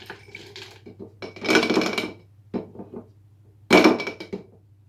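A few hard clattering thuds as frozen raspberries drop into a blender, two louder bursts among lighter knocks, close by with a steady low hum underneath.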